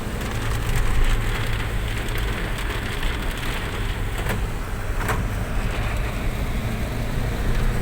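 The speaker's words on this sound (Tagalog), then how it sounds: "Lakas po ng ulan." Heavy rain pouring steadily on a vehicle during a drive around Pinugay and Baras, a loud continuous hiss and drumming with occasional sharper impacts, no voices.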